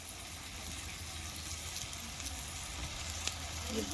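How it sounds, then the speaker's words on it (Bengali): Garlic and ginger paste fries in oil for a mutton fat curry, producing a dense, continuous close sizzle while it is stirred, with occasional faint utensil scrapes. "ভালো করে নাড়িয়ে নেবো"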